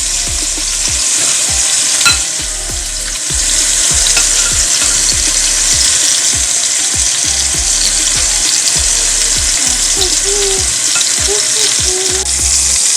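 Oxtail pieces browning in a hot pan, a dense steady sizzle and crackle of fat, with soft repeated knocks and scrapes of the pieces being turned, close and loud.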